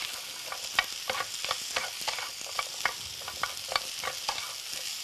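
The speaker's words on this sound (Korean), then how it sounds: "수분을 좀 날린다는 느낌으로 겉에 좀 힘을 받게 볶아주세요." King oyster mushrooms are stir-fried over high heat, with a steady sizzle under a rhythmic scraping and tossing from the spatula in the pan. The sound is close and continuous, with no talking.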